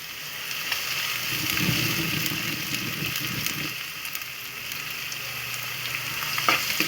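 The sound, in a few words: stirring and frying food in oil in a pan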